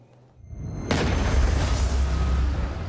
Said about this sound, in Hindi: दहला देने वाले बम धमाके